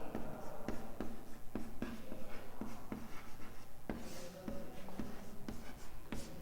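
Equations being written by hand give a close, scratchy pen or chalk stroke sound, rhythmic and continuous, with short regular taps as each stroke starts.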